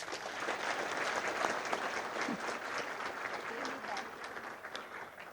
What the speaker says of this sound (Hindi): इन लोगों के लिए ताली बजाओ.